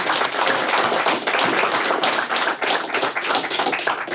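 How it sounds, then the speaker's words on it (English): A small audience gives a round of applause for a guest on a commercial vehicle podcast, with close, loud, dense clapping that stays fairly steady throughout with individual claps distinct. "let's give Mark a round of applause"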